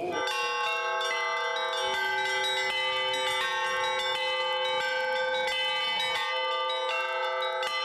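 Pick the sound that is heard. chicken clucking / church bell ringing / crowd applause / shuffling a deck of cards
church bell ringing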